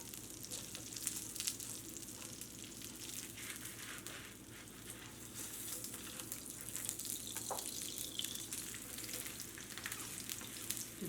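Mixed dal dosa frying in oil on a hot pan, a constant soft sizzle and crackle with occasional spatters, heard alone at low volume.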